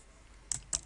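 Keys tapped on a computer keyboard while content is entered into a Joomla 3.0 website: three quick, crisp clicks after a short quiet stretch, close and fairly soft.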